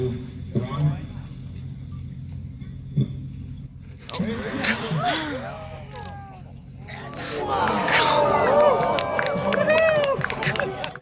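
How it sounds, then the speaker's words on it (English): A crowd watching a rocket launch reacts with rising oohs and ahs, a swelling murmur of many voices that builds and stays loud after the liftoff, with a nearby voice speaking over it. "So you hear the oohs and the ahs."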